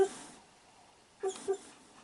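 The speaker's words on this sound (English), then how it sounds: "my dog has just started crying" A dog whimpers indoors: faint, brief high whines, one at the start and two short ones close together near the end, over quiet room tone.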